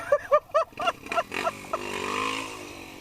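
An enduro-style adventure scooter on a charity ride by a river, its engine blipping in a quick run of short revs that then settle into one longer, rising whine; close and fairly loud.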